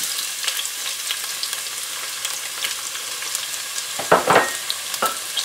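Diced onions frying in hot oil for a Ghanaian tomato stew, a steady close sizzle and crackle with a few louder spits and stirring scrapes near the end, no talk.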